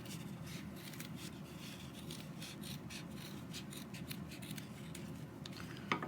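Scissors cut through folded paper to make a heart shape, a quiet, close series of small snips and crisp slicing sounds, with no one talking.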